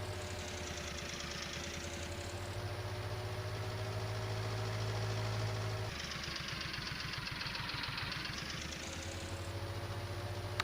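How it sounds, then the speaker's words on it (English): Small John Deere Gator utility vehicle in Farming Simulator 19 idling and driving, a steady mid-pitched engine drone with a brief rev change partway, continuous and close with no talk. "Love this little John Deere, it's brilliant. Absolutely brilliant. This gator's just nips about."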